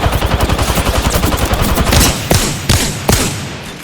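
Rapid automatic gunfire in Apex Legends with an R-99, a fast steady burst of loud shots that gives way to a few heavier, spaced single reports near the end.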